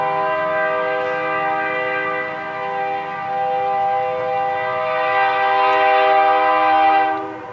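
Long freight trains roll past in the Pilbara, one loaded and one empty, with a loud sustained horn-like tone and steady rumbling wagons throughout.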